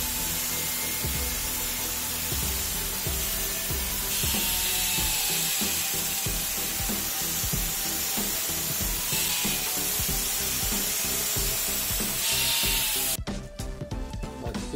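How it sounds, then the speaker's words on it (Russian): A steady, harsh grinding whine runs continuously for a long stretch as an angle grinder cuts metal, at an angle of about 40 to 45 degrees, before abruptly cutting off near the end. "Теперь буду делать разрез болгарочкой, ушемкой."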